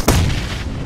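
A bomb blast in the mobile game PUBG Mobile hits as a single loud, booming detonation with a sharp onset and a rumbling tail, filling the brief moment with no speech.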